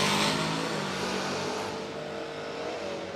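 Ford Mustang drag cars launching side by side down the strip, a loud, dense engine roar that starts at full strength and eases slightly as they pull away.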